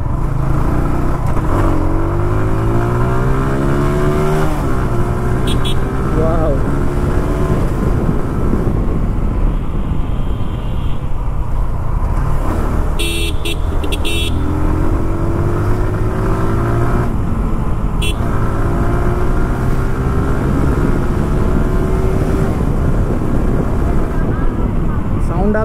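A loud TVS Apache RTR 160 2V BS3 motorcycle engine rumbles steadily throughout, rising and falling in pitch as it revs, with someone talking over it.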